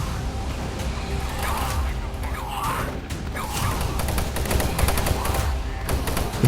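Shotgun blasts and other weapon fire from the shooter game Doom come in dense, loud overlapping bursts and crashes, with a voice speaking over the action.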